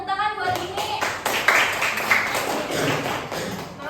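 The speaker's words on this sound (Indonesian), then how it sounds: "Oke, beri tepuk tangan buat ini." Students in a second-grade maths classroom clap their hands together in a loose, uneven burst, with scattered taps and thuds and some children's voices mixed in.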